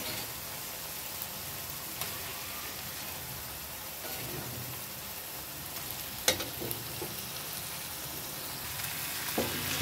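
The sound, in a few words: large gojal fish frying in spice masala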